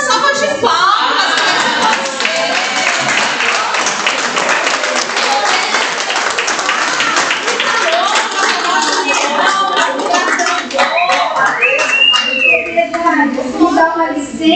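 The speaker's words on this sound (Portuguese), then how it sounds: "vamos bater uma salva de palmas" A room full of meeting attendees gives a steady, sustained round of applause that stays loud throughout, with voices and cheers mixed into the clapping.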